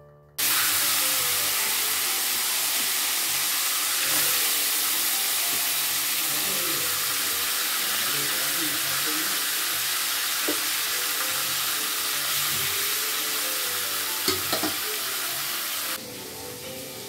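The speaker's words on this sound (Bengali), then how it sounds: "তো চলো মাছটা ভেজে নিই এখন।" Fish frying in a pan in a home kitchen, a loud continuous sizzle and crackle of hot oil that holds steady throughout, with a few faint clinks and no talk.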